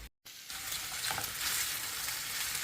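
Steady, loud sizzling of pork frying in a hot pan, rendering its fat, with a brief silence at the start followed by continuous crackling as it is stirred.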